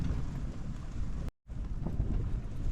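Gusty wind buffeting a tent at a campsite as a storm approaches, a close rumbling roar of wind noise with a brief dropout midway, no voices.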